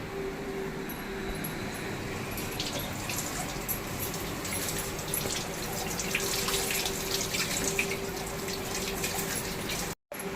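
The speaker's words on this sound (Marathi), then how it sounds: "हा रुमाल आता पुन्हा आपण पाण्याखाली धुवून घेऊया" A cloth is rinsed under a running kitchen tap, a steady, close rush of flowing water with splashy variations as the cloth is worked beneath the stream, with a brief dropout near the end.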